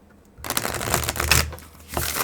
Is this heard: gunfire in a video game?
no